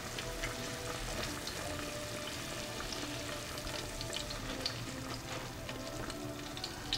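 A steady, quiet bubbling and sizzling from a pot of Persian shami on the stove, continuous and close, with no voices.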